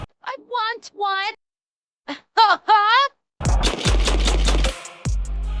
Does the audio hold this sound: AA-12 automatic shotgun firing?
yes